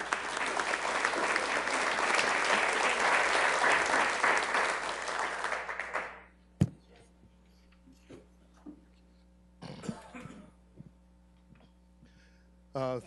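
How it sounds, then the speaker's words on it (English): Applause at a Sioux Falls city council meeting for the council chairperson lasts about six seconds, a moderate crowd clapping steadily before it stops abruptly, leaving a quiet room with faint hum and small noises. "Let's give Council Chair Ken Anderson, Jr. a round of applause."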